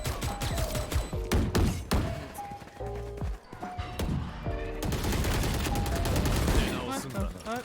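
Repeated gunfire in the tactical shooter Valorant, sharp pistol and rifle shots in quick succession amid in-game effects, loud and continuous across several seconds, with a voice speaking faintly underneath.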